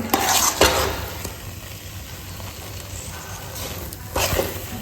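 Sheera being stirred in a pan after cardamom powder is added, with close scraping and clinking of a spoon against the pan over a soft sizzle, louder strokes at the start and again near the end.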